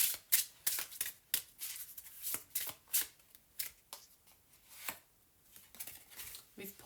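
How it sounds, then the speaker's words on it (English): Reiki oracle cards being shuffled by hand, a rapid series of crisp riffling snaps and soft slides close to the mic, pausing briefly near the end. "Let's pull one Reiki card before we give a little Reiki energy."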